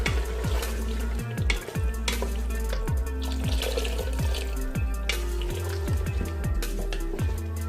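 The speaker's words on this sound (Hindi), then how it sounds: "तकरीबन 1 गिलास जो है पानी मैंने इसमें ऐड किया है" Water poured into a pan of sizzling chicken keema and potatoes, loud bubbling and hissing with rapid crackling bursts, close and continuous, no talking.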